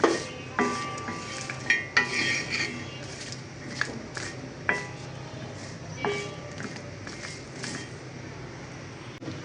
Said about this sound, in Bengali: তাই সকাল সকালই বিচিগুলোকে ভেজে নিচ্ছি